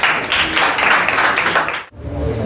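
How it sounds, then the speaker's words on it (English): A crowd gives a dense round of applause to welcome a performer at an Independence Day event, steady clapping that cuts off abruptly near the end. "please welcome him by using a round of applause"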